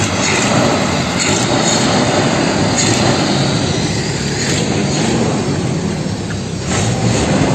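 A Jeep Cherokee XJ with the 2.5L engine idles loudly and steadily after a first test start on a cold day, a constant heavy rumble filling the whole stretch with no talk over it.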